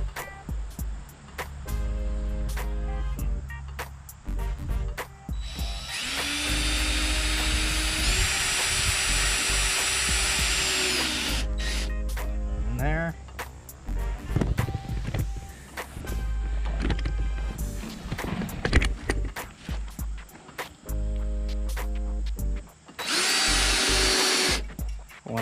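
A power drill drives screws into a 55 gallon drum gravity feeder, with loud, close whirring bursts that rise in pitch as each screw seats. Clatter and handling noises fill the gaps between bursts.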